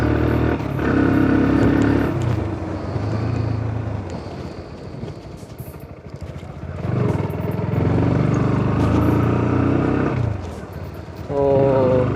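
A 2022 Bajaj Pulsar NS 160 BS6 motorcycle riding, its engine droning and swelling in waves as the rider throttles up and eases off, heard under someone talking.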